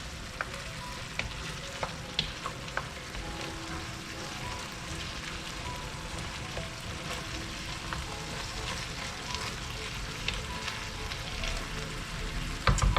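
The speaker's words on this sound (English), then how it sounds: "we just now want to simmer this for 10 minutes just to partially cook all these vegetables through" Meat and vegetables for a keto shepherd's pie simmer and fry in a pan, a steady close sizzle with soft crackles and occasional stirring scrapes, no talking.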